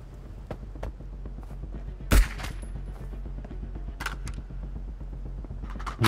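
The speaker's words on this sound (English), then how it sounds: "I think those shots were down below or above." Distant gunshots in the Marauders video game. A steady patter of faint, rapid shots and thuds runs throughout, with one louder, sharper shot and a few nearer bangs standing out.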